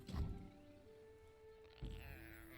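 A button-press sound in the card game Legends of Runeterra, heard as two soft, dull thunks about a second and a half apart, quiet and alone against faint tonal game ambience.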